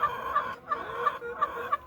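Chickens on a poultry farm cluck in repeated, rhythmic bursts, roughly three pairs of calls, against a steady background of flock noise and no talking.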